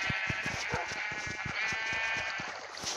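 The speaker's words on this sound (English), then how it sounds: "let's spawn sheep" Several sheep bleating in the video game Minecraft, overlapping wavering cries in quick succession, close and fairly loud, with soft repeated thumps beneath.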